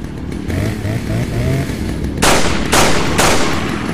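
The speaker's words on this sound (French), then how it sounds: "il y a le mec avec la tronçonneuse derrière moi" A chainsaw-wielding enemy in Resident Evil 4 on PC revs its saw nearby, a buzzing engine drone that swells into three loud bursts in the second half with no talk.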